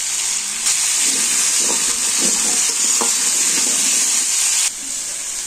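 Potatoes frying in a pan for a village-style dried fish and fish curry dish give a steady, close hiss of sizzling oil, with soft stirring scrapes and clinks running through it and no voices.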